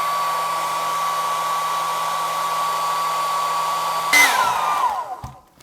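A hair dryer on its low setting blows a steady whirring hum while warming the vinyl skin of a Nintendo Switch Lite, then gives a short louder rush and winds down as it shuts off.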